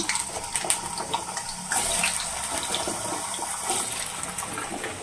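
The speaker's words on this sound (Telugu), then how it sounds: "ఫ్రెండ్స్, ఆయిల్ హీట్ ఎక్కింది. ఇప్పుడు ఓన్లీ పొటాటో వేసుకుంటున్నాను." Potatoes dropped into heated oil for deep frying give a steady, fairly faint hissing sizzle that swells slightly partway through, with no speech.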